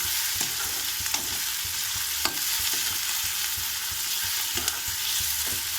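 Curry leaves and turmeric sizzle steadily in hot oil in a pan for an egg curry, with a constant broadband fry and scattered soft clicks of stirring. The sound is close and moderately loud, and nobody speaks.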